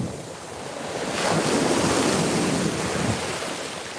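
Ocean waves wash onto a beach with warm water and heavy seaweed, a steady broad roar of surf swelling in the middle, mixed with gusty wind buffeting the microphone.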